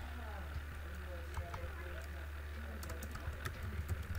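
Typing on a computer keyboard: faint, sparse key clicks scattered over a steady low electrical hum, quiet and somewhat distant.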